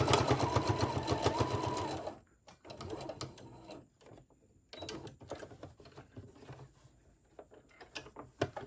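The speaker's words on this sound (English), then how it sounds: "I'm just going to top stitch just to seal that up." A sewing machine top stitches a fabric face mask, with a steady close rattling run that stops, then shorter intermittent bursts and clicks of the mechanism.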